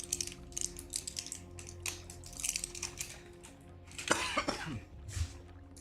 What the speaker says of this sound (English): I've had this lingering cough for about 3 weeks now.